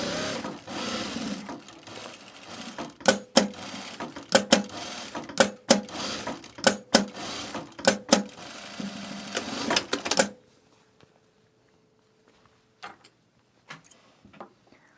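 A sewing machine stitches a canvas duffle bag in a series of rapid mechanical bursts with short pauses for about ten seconds, then stops, leaving a quiet room with a few faint clicks.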